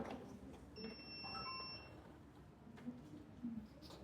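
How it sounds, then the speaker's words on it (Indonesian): A long electronic beep sounds from the buzzer of an RFID smart door lock rejecting an unregistered card, one steady tone lasting under a second against a quiet room background. "Jika kartu belum terdaftar, maka akan membunyikan bip panjang seperti"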